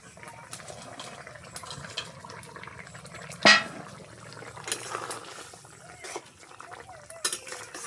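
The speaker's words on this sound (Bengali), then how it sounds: "বন্ধুরা আমার ঝোল ফুটে গেছে, এখন দিয়ে দেবো ভেজে রাখা মাছ" Pieces of fried fish going into a simmering fish curry with potato, pointed gourd and okra, a sharp splash and clink followed by soft bubbling, stirring and occasional utensil knocks in a quiet kitchen.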